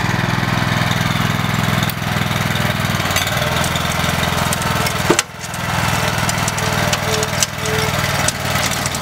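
Berta rotary plow on a walk-behind tractor running steadily through soil during a plowing pass, a loud continuous mid-pitched engine drone with a brief knock around the middle as it strikes a piece of wood.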